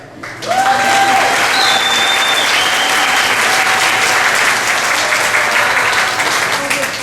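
A large audience gives sustained, loud applause for the next speaker at a live comedy show, with a voice audible over the steady clapping.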